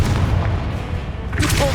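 A Confringo fire blast spell in Hogwarts Legacy erupts as a heavy, low booming roar that rumbles continuously, followed by a brighter crackling burst near the end.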